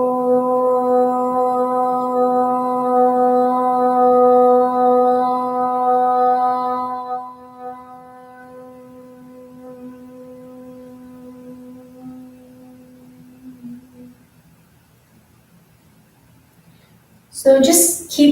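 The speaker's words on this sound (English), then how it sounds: "108 chants of the mantra Om" One voice chants a long, steady Om, a sustained hum that holds for about seven seconds and then fades to a soft, lingering tail before a brief noise near the end.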